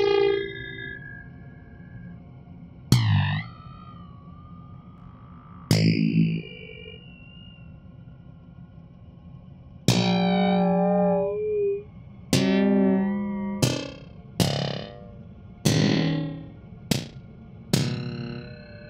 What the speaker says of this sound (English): So now we have this resonator sound.